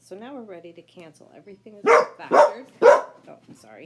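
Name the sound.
dog barking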